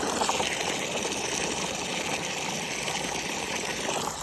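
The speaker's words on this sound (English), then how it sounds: "a little bowl over here that I fill up some water in that" Water runs steadily into a small container nearby, a continuous rushing flow with a faint mechanical hum underneath.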